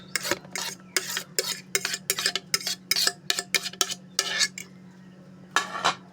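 A spoon clinks and scrapes against a bowl while mashed banana is mixed with cake batter ingredients, giving a dozen or so quick, close, uneven strokes followed by a brief pause and one last stir.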